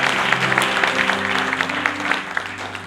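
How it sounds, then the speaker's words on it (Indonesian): A church congregation claps along in praise, fast rhythmic handclaps over a sustained organ or keyboard chord, close and fairly loud. "Let's clap our hands and give God praise."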